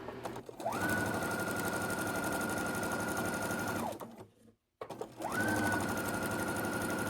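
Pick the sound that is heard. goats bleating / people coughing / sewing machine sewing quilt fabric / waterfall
sewing machine sewing quilt fabric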